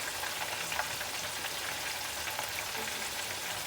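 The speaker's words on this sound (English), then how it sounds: "got my chicken over here frying" Chicken frying in a pan gives a steady, close crackling sizzle that stays even and continuous throughout, with no voices over it.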